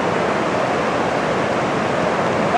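Cold water of Big Creek rushing steadily, a loud, close, unbroken wash of flowing water with no pauses.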